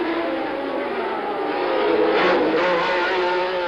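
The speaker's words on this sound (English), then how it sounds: "He has now passed Scheckter and Depailler and is brilliantly up into second place" Formula 1 race cars at the 1979 Long Beach Grand Prix, a continuous loud engine roar with a brief swell as a car passes close.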